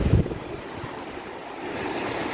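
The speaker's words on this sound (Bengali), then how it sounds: "নীল জল, প্রচণ্ড ঢেউ।" Strong sea waves roll and surge near Ross Island, with a loud rush at the start giving way to a steady, broad wash of surf and wind buffeting the microphone.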